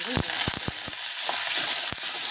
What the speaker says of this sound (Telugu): ఉల్లిపాయ ముక్కలు కొంచెం మగ్గేంత వరకు అయితే మగ్గించుకోవాలి